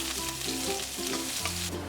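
Chopped garlic sizzling in about two tablespoons of hot olive oil in a pan, a close, continuous frying hiss with faint stirring scrapes and no voices.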